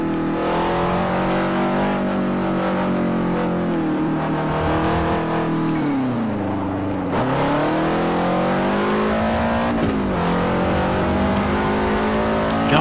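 Upgraded race car in Forza Motorsport 4 screaming at high revs, engine note rising and falling through gear changes, sustained, loud and near, with no voices over it.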